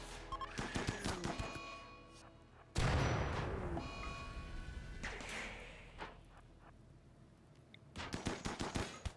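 A turret in a colony-building video game fires rapid bursts of gunshots, with a sharp crack and boom midway, then another rattling volley near the end, all fairly quiet.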